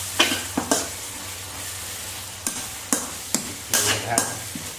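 Beef with holy basil, palm sugar and seasonings stir-fried in a hot pan, with repeated sharp scraping and clanking of a spatula over a steady sizzle and a low background hum, close and loud.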